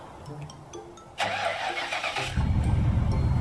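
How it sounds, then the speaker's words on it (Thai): A Ford Mustang SVT Cobra R starts with a short crank, then the engine catches and settles into a loud, steady idle at close range. Faint background noise comes before the start. "อันนี้คือเสียงสตาร์ทรถครับ"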